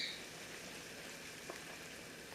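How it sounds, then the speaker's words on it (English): Cocoa powder sizzles in hot oil: a faint, steady hiss with a light crackle and no talking. "this is hot oil. We're going to take all our cocoa powder. That's, whoa, it's sizzling."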